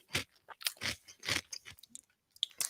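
Close, crunchy chewing of a tortilla chip scoop loaded with cheese and beans, a quiet run of crisp bites and mouth crunches in an irregular rhythm with no talking.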